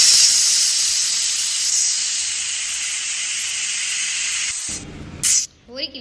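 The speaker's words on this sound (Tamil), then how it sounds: "கொஞ்சமாக தண்ணி சேர்த்து குக்கரை மூடி விசில் போட்டுடலாம்" A pressure cooker on the stove lets out a loud, continuous hiss of escaping steam while biryani cooks, holding steady for several seconds before cutting off abruptly, followed by brief clatter near the end.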